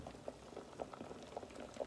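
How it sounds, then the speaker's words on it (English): Potatoes boiling in a pan of water: a quiet, steady burble of bubbles popping at the surface, close by and continuous, with no voices. "We put our potatoes in a pan with water and we bring to a boil."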